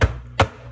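Two sharp knife chops through bell pepper on a cutting board, one at the start and another a moment later, close and crisp with quiet gaps between.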